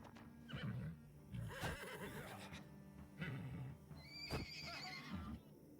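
A horse neighs and whinnies in the medieval strategy game Wartales, several shrill whinnies with snorts and hoof clip-clops amid combat sounds, fairly quiet overall.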